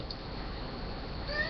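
A house cat meows indoors, a short, clear call over a steady background hiss.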